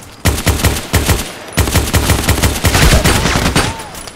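Single-shot gunfire in the video game Contract Wars comes as a rapid, steady series of loud, close shots, about a dozen evenly spaced cracks with no speech.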